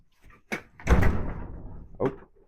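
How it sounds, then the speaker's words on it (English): A door blown shut by strong Oklahoma wind outdoors, a single heavy thud with a short rattle and a lighter knock just after, close and loud. "Oh, my door slammed shut."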